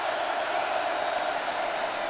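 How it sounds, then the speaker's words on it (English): A sellout college football crowd at Nebraska versus Northwestern roars and cheers after a big hit, a broad, steady wash of far-off crowd noise. "And this sellout crowd heard from again."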